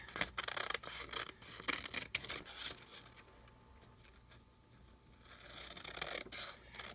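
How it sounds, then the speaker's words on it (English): Scissors snip around the edges of pocket calendar paper being cut into junk journal embellishments, a close run of quick crisp cuts that eases into softer paper rasping and rubbing, with no talk. "we're going to go ahead and just cut around."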